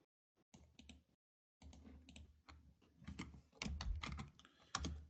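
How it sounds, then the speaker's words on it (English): Bursts of typing on a computer keyboard during Linux command-line work, close and clear, with irregular clusters of key clicks separated by short pauses and a louder stretch toward the end. "I'm gonna type this in here."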